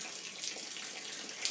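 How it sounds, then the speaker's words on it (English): Water sprayed onto an old cannonball during drilling to unload it, a steady soft hiss like a faucet running, fairly quiet and continuous throughout. "We're spraying a little bit of water on it"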